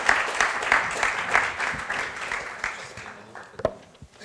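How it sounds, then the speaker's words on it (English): A lunchtime conference audience claps as a protein-industry panel walks on stage: moderate, somewhat distant applause that gradually thins out, with a few scattered claps at the end. "we give them a huge round of applause,"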